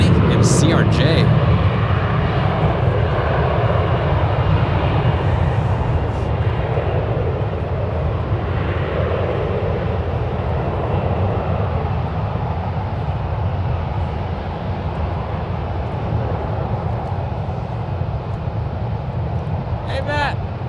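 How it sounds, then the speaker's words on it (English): A320 and CRJ airliners landing in parallel at San Francisco International Airport, a broad, steady jet roar that stays loud for the whole stretch and slowly eases, with people talking over it. "Looks like we might get a parallel landing here between an A320 and CRJ."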